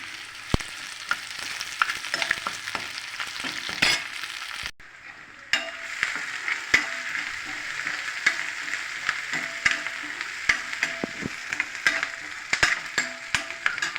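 Shredded cabbage sautéing in a pan for a poriyal, a steady sizzle broken by frequent sharp scrapes and knocks of a stirring spoon, with one brief near-silent gap midway.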